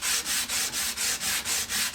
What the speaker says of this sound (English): a little quick surface sanding on a piece of sandpaper mounted to some